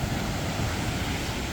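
Sea waves roaring at Haeundae Beach in Busan, a continuous dense wash of surf noise with wind buffeting the microphone, no voices.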